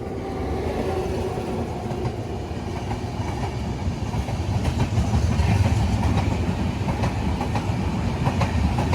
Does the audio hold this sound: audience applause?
no